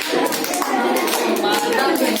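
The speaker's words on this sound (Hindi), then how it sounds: "अब हमने ताली बजाई आसपास वाले के" A group of children clap their hands together, a dense, steady patter of many claps over about two seconds, close and fairly loud with little pause.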